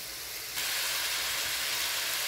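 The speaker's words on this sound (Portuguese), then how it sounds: "Vamos deixar ele fritando bem aqui." Meat frying in a pan makes a steady, quiet sizzle that swells suddenly into a louder, even hiss and holds there without pause.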